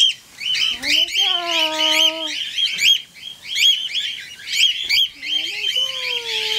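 A flock of cockatiels released from a carrier into an aviary gives loud, shrill repeated chirps and squawks up close, overlapping continuously, while a person speaks beneath the calls.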